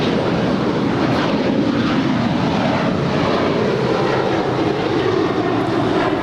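Alaska Airlines Boeing 737-900ER taking off at LAX, a continuous loud broadband engine roar holding steady throughout with no pauses.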